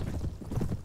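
Horse hooves clip-clop in quick, muffled thuds as a mounted rider moves in the medieval strategy game A Clash of Kings, short and fairly close with no speech.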